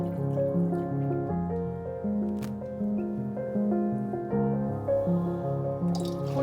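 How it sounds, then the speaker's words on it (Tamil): Tamarind water pouring and squishing into a pan of rasam, dripping and trickling close by, over background instrumental music. "இப்போ இந்த டைம்ல நம்ம புளி தண்ணியை சேர்த்துக்கலாம்."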